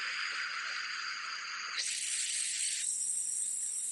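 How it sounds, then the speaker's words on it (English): A long, steady hiss of breath pushed out during an eight-second engaged exhalation for an abdominal exercise. It is close and breathy and shifts in tone partway through, with no talking. "and now on the exhale, 8 seconds sounds like this."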